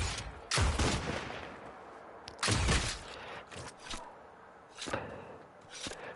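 Woodstake shotgun blasts in Fortnite: two loud, booming shots about two seconds apart, then a few fainter, sharper pops trailing off, with no talk.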